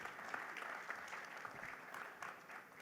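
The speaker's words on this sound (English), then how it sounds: "A round of applause for our panelists," Conference audience at a rail industry leadership panel clapping for the panelists, a dense, even burst of applause that stays steady throughout, fairly faint and distant.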